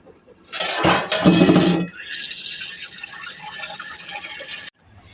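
A metal wok clatters as it is handled in a home kitchen, followed by a softer rushing of water under faint background noise.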